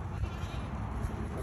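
Goats bleat at a goat farm, a few overlapping calls fairly close over steady outdoor background noise, with no talk.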